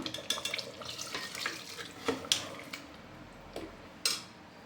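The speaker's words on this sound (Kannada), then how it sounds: "ಈಗ ಇದಕ್ಕೆ ನೀರು ಹಾಕೋಣ." Water is poured from a tap or glass into chicken gravy in a pressure cooker, a quiet running splash broken by several sharp clinks of utensils against the pot.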